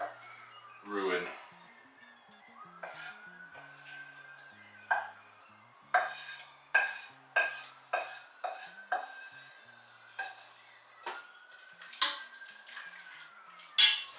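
A spoon clanking and scraping in a pot while roux is stirred into gumbo vegetables of garlic, chilies and parsley, with irregular knocks and taps, close, while a person talks.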